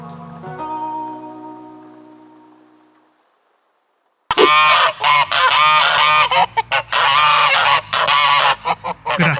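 A flock of geese honking loudly and continuously, overlapping calls close by, after a few seconds of fading tonal sound and a brief silence.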